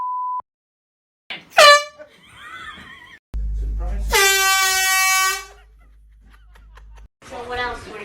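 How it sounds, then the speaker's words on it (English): A deafening air horn blares in a prank, a brassy harmonic blast held for a couple of seconds, with a startled shout, squealing whinny-like yelps and laughter breaking out around it. "I know some of you don't like the air horn pranks"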